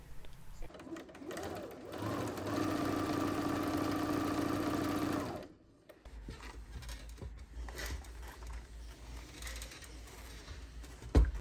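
A sewing machine stitches a skirt seam for a bubble frock, running in one steady, fairly loud burst of several seconds before stopping, with quieter handling noise afterward.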